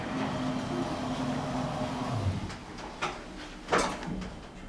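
An Otis elevator door sliding shut on the platform 3/4 lift at JR Kagoshima Line's Nishi-Kokura Station, a soft rumble ending in a couple of muffled thuds over steady background hum.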